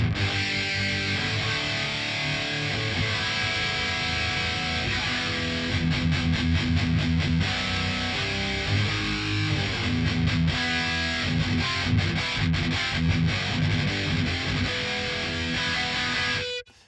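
Heavily distorted electric guitar through an Otto Audio high-gain amp plugin on its default setting, playing continuous chugging riffs, thick and saturated, loud throughout before stopping abruptly at the end.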